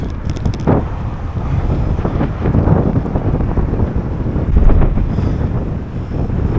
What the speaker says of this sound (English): It is a little bit windy here. We are getting the wind from each direction